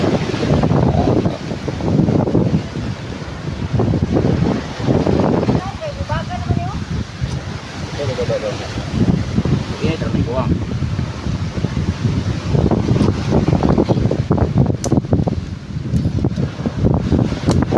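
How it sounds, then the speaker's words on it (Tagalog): Strong sea waves surge and wind roars continuously during a typhoon on the water near fishermen. The wind buffets the microphone loudly, and voices are partly heard under the rough, steady noise. "Napakalakas ng alon mga kabuhay."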